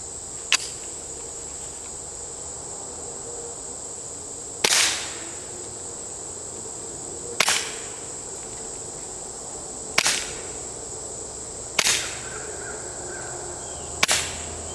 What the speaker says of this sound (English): put a couple rounds down range